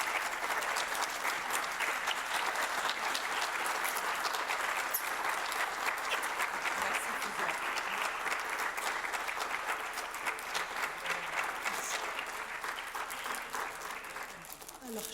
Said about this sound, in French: Voilà, une stand ovation pour